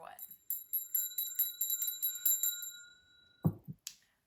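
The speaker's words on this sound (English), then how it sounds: "I'm going to go ahead and ring the bell" A small bell rung at the start of a tarot reading gives a series of bright, sustained metallic rings that fade out, followed by a brief voice.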